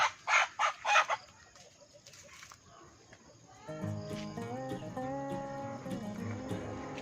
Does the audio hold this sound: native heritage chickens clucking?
yes